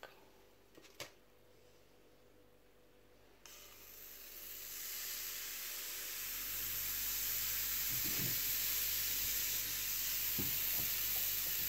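A pancake fries in a pan on a stovetop, a soft, steady sizzle that grows louder after a few seconds and continues evenly, with faint kitchen clatter near the start.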